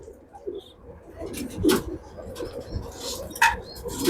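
A racing pigeon gives a few soft, scattered coos close by, mixed with light clicks and shuffling, over a quiet background.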